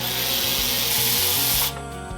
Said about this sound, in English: using our Tusk clutch holder to get off this sprocket